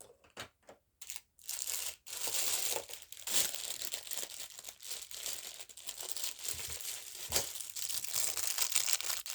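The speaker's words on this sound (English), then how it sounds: "Sorry about the crinkle." Packaging crinkles and crumples up close during paper crafting, with bursts of crackling rustle separated by short pauses at first, then near-continuous handling noise, no talking.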